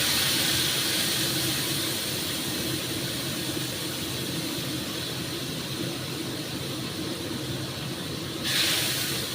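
Water added to bitter gourd frying in a pan sizzles in a steady, even hiss that carries through without pause, swelling briefly toward the end.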